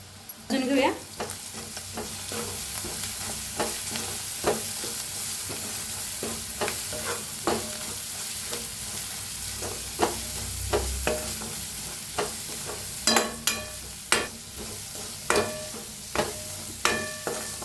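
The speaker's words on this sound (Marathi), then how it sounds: "आता ही मसाला टाकूया जी वाटण करून घेतलं होतं ते" Ground masala paste fries with onion in a pan for an amtee curry, a steady close sizzle broken by repeated scraping stirs of a spoon against the metal, with sharper clatters toward the end and no talking.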